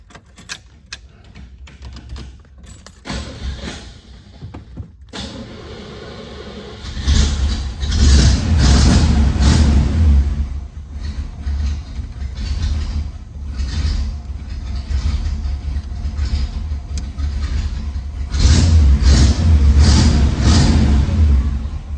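A 1965 Chevrolet Impala Super Sport convertible with 64,380 miles cranks with clicks and whirs, fires up, then idles and revs in loud waves of rumbling engine noise close by, without talk.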